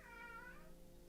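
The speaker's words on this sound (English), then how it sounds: "Sorry, you hear my cat meowing." A pet cat meows once from inside a home, a short, quiet, drawn-out cry heard alone in a brief moment.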